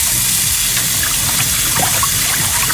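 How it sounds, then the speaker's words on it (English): In a sink, water is stirred around an endoscope during cleaning, making a loud, continuous close-up sloshing and gushing with no pauses and no talk. "So I agitate the water in and around the scope,"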